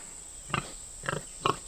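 A pig on a farm, a sow bred to a Hereford boar, gives three short grunts spaced about half a second apart, close and moderately loud over a steady high insect-like whine.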